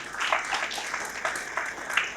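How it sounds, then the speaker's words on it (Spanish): A church congregation gives a loud round of applause during a Spanish-language service, the clapping forming a steady, dense wash with a few sharper bursts throughout. "¿Cuánto le dan un fuerte aplauso al Señor?"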